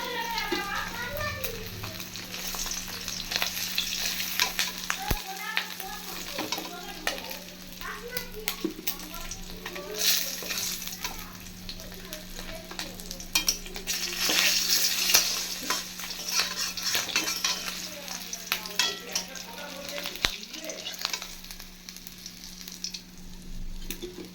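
Pieces of rohu fish sizzle steadily in hot oil, with the occasional clink and scrape as pieces are lifted out of the pan, and faint voices in the background.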